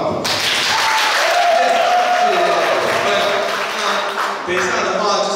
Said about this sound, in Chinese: 各位一点掌声好不好？